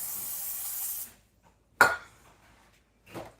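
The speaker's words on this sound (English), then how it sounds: "They say you should butter it. So I'm going to spray it." Cooking spray hissing onto a turkey breast bound for a crockpot: a steady close hiss for about a second, then two short sharp spritzes after a pause.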